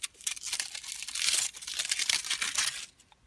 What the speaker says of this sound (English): get the tinfoil off of your key